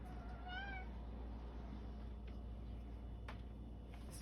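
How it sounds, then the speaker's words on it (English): A pet cat gives a single short meow early on, close and clear over a quiet room background, followed by faint small knocks. "Sorry, my cat."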